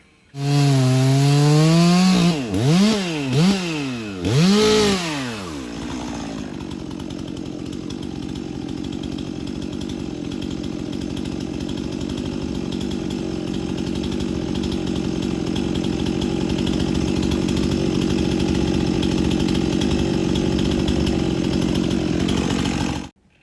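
A Stihl MS400 C-M chainsaw is feathered on and off, its engine sweeping up and down in pitch several times, then holding a loud, steady high-rev whine.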